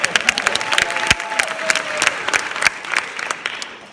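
An audience at a suicide awareness talk applauds with a moderate, uneven patter of clapping that swells and then tapers off, with a faint voice briefly audible beneath it.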